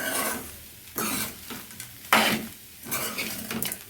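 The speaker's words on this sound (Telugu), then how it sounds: "బాగా కలిపెట్టుకోవాలి కిందకి పైకి బాగా కలిసేటట్టు" Flattened-rice upma (atukula upma) stirred in a pan, with a soft sizzle under repeated scraping strokes of a spoon against the metal at an uneven rhythm.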